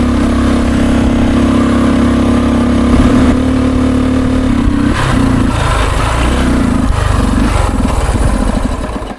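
A 50-year-old Honda enduro motorcycle engine, loud and close, idles with a buzzing drone, then sputters and stumbles unevenly before dying away.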